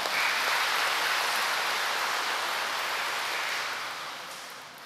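A church congregation applauds during the opening Mass of the month of flowers, a dense, even roar of clapping that holds steady and then slowly fades toward the end.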